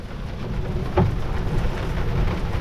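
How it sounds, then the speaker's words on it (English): Heavy rain and whipping southerly wind in a winter storm aboard an anchored sailboat at sea, a dense, loud, steady roar with a single dull thump partway through. "We're in a big rainstorm right now, and the wind is whipping."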